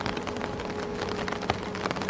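Cartoon rain falls steadily on a roadside at night, a dense, even patter of drops with a few sharper splashes, moderately loud and unbroken by voices.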